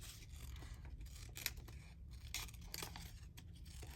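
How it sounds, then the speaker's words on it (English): Scissors fussy cutting around a piece of paper, snipping in short bursts with crisp crinkling and rustling of the sheet, close and fairly quiet with no talking. "anyone who's new to fussy cutting, I'm sort of wiggling it around the piece of paper"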